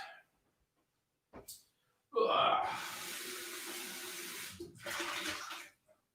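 A glass rinsed under a running kitchen tap after a brief clink, with a steady rushing water stream for about three seconds, a short pause, then more splashing water.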